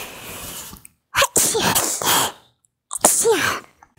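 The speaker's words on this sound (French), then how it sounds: "Ça sent trop fort la lessive, je vais éternuer, mon Dieu." A single person sneezes close up, with a sharp loud burst and a quick follow-up, while folding clothes that smell strongly of laundry detergent.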